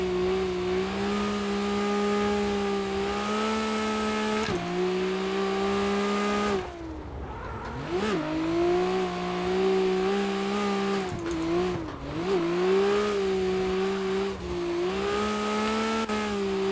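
A 750whp RB26-powered R32 GTR pulls hard in fourth gear, its engine note loud and close with a rising drone that climbs, dips briefly on a lift or shift, then climbs again.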